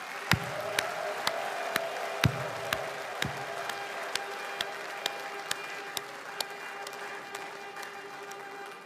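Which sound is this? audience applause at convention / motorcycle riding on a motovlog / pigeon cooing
audience applause at convention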